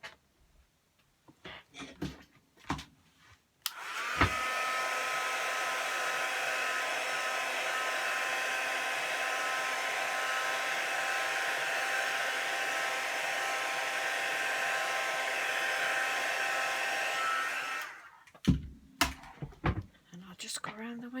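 A hair dryer blows warm air over a freshly painted card for about fourteen seconds, a steady, loud whirring drone with faint handling taps before and after it.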